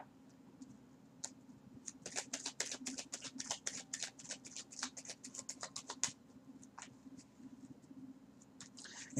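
Tarot cards are shuffled by hand, giving a quiet, close burst of rapid riffling flicks that trails off into a few scattered snaps and slides as cards are pulled, with no talk.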